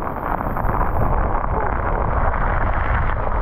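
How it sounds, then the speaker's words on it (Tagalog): Loud, constant roar of strong wind blasting the microphone, with rain noise blended into the rush; no clear speech. "Lakas ng hangin, lakas ng ulan."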